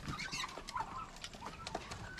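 Turkeys in a backyard pen make soft gobbling and clucking calls that overlap in short bursts, close by and moderately loud, over a busy farmyard background.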